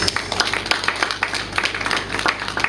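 A small group claps for a new hospital registrant at a commissioning event, with sparse, uneven hand claps close by for a few seconds.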